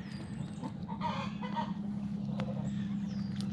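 Chickens cluck close by among baby chicks, short clucks scattered over a steady low hum, with a few higher calls across the few seconds.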